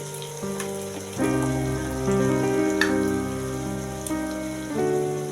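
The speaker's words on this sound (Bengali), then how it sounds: "আর স্বাদ মতো নুন মশলাটা ভালো করে কষে নেব" Spices sizzling and sputtering in hot oil in a pan while being sautéed for a Bengali cabbage dum, a steady crackling hiss with occasional sharp pops, close and continuous, with a low hum underneath.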